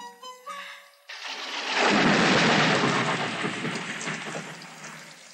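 Heavy rain pours down steadily after a sharp thunderclap, a dense, loud wash of downpour that swells and then holds, with a brief quieter stretch at the start.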